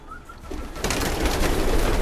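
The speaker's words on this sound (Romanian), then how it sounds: "porumbeii sunt destul de stresați, sunt mutați de curând" Pigeons cooing in a loft, soft low coos joined by a broad rush of wing flutter and rustling that swells halfway through, close and steady with no talking.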